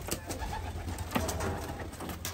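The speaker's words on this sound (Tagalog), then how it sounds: "Yung nagdadatingan ng mga ibon." Pigeons coo softly as a flock of birds arrives, with a low, repeating coo over faint outdoor background noise.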